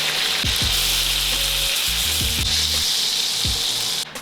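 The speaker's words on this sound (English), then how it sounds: "So there should be enough oil and butter for you to baste your steak." Steak sizzling loudly in a pan of oil and garlic butter while being basted, a dense continuous hiss punctuated by scraping spoon strokes and clinks, close and alone with no voices.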